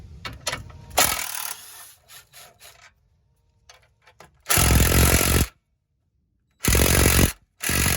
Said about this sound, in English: let's start by removing this bracket here, and I think this is a 13mm socket